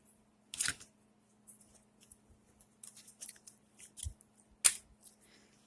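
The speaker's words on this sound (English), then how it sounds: "Now I'm gonna go and cut the tag." Scissors snip the tag off a shirt in a quiet room: a few separate, close, crisp cuts with short pauses between them and no talking.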